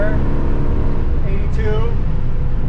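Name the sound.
1965 Ford Mustang Fastback accelerating on kick down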